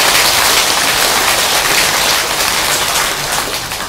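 A temple audience at a Buddhist dharma talk claps together in a loud, dense, sustained round of applause that fills the space and then eases slightly.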